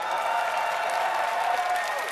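A crowd at a gaming match cheers and applauds ahead of a game, a steady, fairly distant wash of clapping and voices with no breaks.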